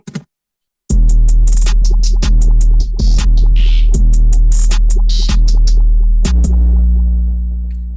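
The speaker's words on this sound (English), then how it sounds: "together with all the drums, this is what the drums sound like" Hip-hop drum beat produced for a rap track, with hard kicks, snappy snares and hi-hats in a steady loud groove after a brief opening blip and a pause, the last hit ringing out.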